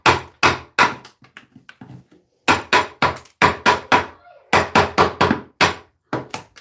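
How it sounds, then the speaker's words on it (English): Repeated sharp blows striking an IRWIN folding chisel into wood, loud and close, arriving in irregular bursts of strikes with short pauses between them and no talking. "We're doing it all with the chisel."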